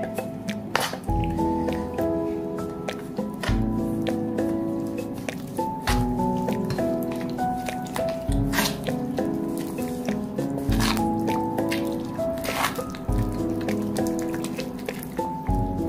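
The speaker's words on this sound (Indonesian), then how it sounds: "Oke, saya diaduk kembali." Sago flour and rice flour batter being stirred in a bowl, giving steady wet, squishy, dripping sounds with repeated thick thuds at a loose rhythm, close and loud throughout.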